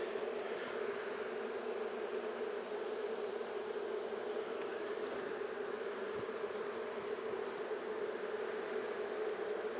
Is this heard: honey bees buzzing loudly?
yes